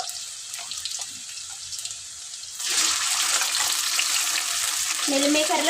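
Chicken pieces, washed with turmeric and salt and squeezed dry, drop into a hot tempering and start frying. After a quieter start with light kitchen clatter, a loud, steady sizzle bursts in and carries on to the end.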